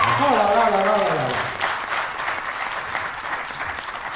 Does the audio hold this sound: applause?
yes